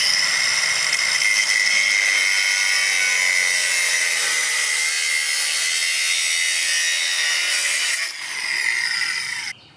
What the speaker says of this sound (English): I'm going to use my DeWalt grinder again, and I'm going to cut these in half.